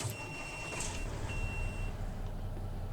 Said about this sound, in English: But it's a fucking car alarm for a backup beeper.